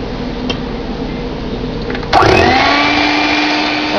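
An electric mixer beats vanilla extract into Louisiana crunch cake batter, starting abruptly partway through with a steady, close whirring drone that holds alone to the end.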